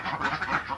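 Pekin ducks on a duck farm give a short burst of nasal honking quacks, close and moderately loud, with several calls overlapping.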